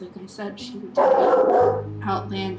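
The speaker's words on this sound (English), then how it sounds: "I'm so sorry about the dog!" A dog barks loudly and close, a short burst of harsh barking in the middle while a person talks before and after.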